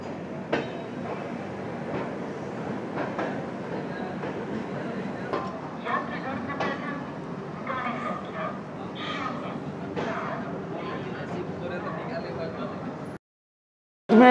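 The Brahmaputra Mail, an Indian passenger train, pulling into Pandit Deendayal Upadhyay station, heard from on board as a continuous rumble with wheel clatter and rattling, with a voice talking over it before a sudden cut near the end.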